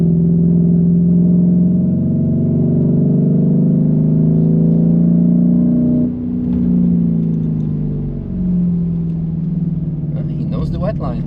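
Steady engine drone from a Lamborghini Urus SUV lapping the Nürburgring, rising and falling with a brief dip midway, heard from inside the cabin with voices faintly mixed in.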